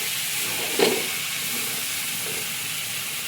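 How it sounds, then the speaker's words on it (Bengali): Ghugni, a spiced pea curry, fries in a pan with a steady close hiss and sizzle, broken once early by a brief clatter of stirring. "এখন আমি এটা কিছুক্ষণ ভাজবো।"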